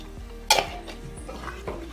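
Onions being stirred in a pan with salt while frying for mutton curry: a sharp clank of the utensil against the pan, then softer scraping strokes over a low, steady sizzle, with no voices.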